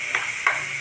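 Carrot halwa with cashews and almonds is stirred in a pan, a spoon scraping through the thick mixture in a few soft, evenly spaced strokes over a faint low sizzle, close and quiet.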